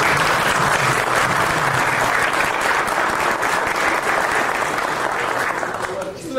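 Sustained audience applause for a presenter at a seminar on structural models for reinforced concrete, dense and steady throughout, easing slightly at the very end.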